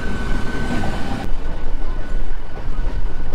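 Howrah to Tarakeswar local train running, a steady loud rumble of rolling carriages with rail noise throughout, a sharp shift in the texture partway through.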